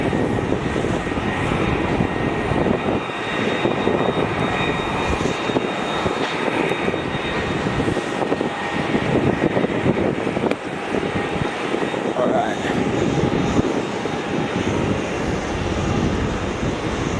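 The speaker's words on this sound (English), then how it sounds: "Qantas A330 now exiting the runway" A Qantas Airbus A330 jet rolls off the runway at Melbourne Airport, its engines a steady, loud, continuous roar with gusty wind noise on the microphone.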